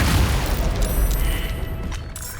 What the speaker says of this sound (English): It exploding alerted another guard